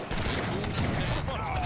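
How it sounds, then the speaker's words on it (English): Rapid distant gunfire and artillery crackle from an Age of Empires III battle, a dense continuous volley of shots and booms in the background, with no talking. "Artillery spam's already there."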